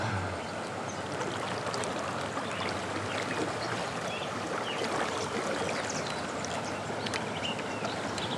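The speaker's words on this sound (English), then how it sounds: "I've got some water flowing in here." Stream water flows in a river channel swollen by spring rain, a steady, close, rushing wash that stays even and unbroken with no voices.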